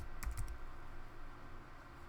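Quick burst of typing on a computer keyboard while entering a short word into a network access-control configuration field, several close clicks in the first half second, then quiet room tone.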